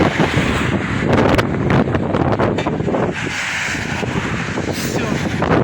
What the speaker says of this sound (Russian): Ветер так усилился.